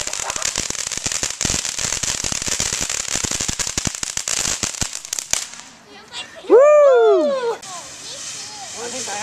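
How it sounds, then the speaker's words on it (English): A roll of firecrackers on a summer fireworks holiday crackles in a dense, rapid string of sharp pops for several seconds, then stops, followed by a whistling, screaming firework and voices. "I think I have a roll of the firecrackers"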